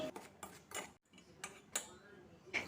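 Spoon stirring dry semolina, gram flour, salt and ground pepper together in a bowl, giving a few light scraping clinks and taps at close range, some separated by short pauses.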